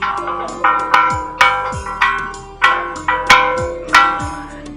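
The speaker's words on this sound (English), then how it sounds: "I'm going to ring the bell, guys." A bell at a trench warfare exhibit in a war museum is struck repeatedly, about ten loud ringing strikes in an uneven rhythm, each tone decaying before the next, close by with no talk.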